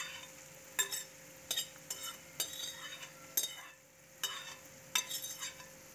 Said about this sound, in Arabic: منضيف عليهم البطاطا المقلية ومنقلبهم